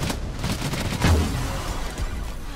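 Rapid gunfire with bullets reflected back at enemies in the Outriders shooter game, a dense, continuous crackling fusillade with a heavier thump near the middle, loud and close, no talk.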